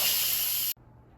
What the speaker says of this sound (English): we're going to quick release the remaining steam